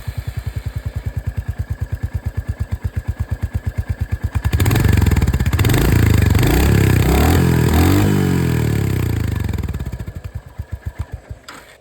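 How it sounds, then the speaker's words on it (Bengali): A Royal Enfield Hunter 350 motorcycle's single-cylinder engine thumps at a steady close idle. It then revs up into a loud sustained roar for several seconds before dropping back to the even, pulsing idle beat. "দুটোরই যে থাম্প বা সাউন্ড, সেটা আপনাদেরকে শুনিয়ে দিই। আর স্টার্ট করি সবথেকে প্রথমে উইথ দিস হান্টার 350।"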